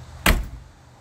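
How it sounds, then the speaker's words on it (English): An RV door on a 2020 VanLeigh Vilano 360 RL fifth-wheel by Tiffin slams shut once, a single sharp, loud thud that dies away quickly in a quiet space. "Slam shut."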